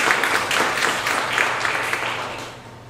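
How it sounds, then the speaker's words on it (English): A church congregation applauding children, with a broad, fairly loud round of clapping from many people that tapers off gradually over a few seconds. "Give them a round of applause,"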